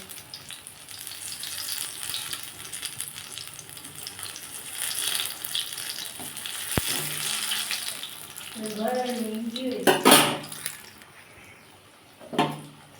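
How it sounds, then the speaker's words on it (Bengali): Pointed gourd fritters fry in hot oil in a pan, giving a steady bubbling sizzle with scraping and clattering near the end, under faint background noise. "এটা লাল লাল করে ভেজে নেবো"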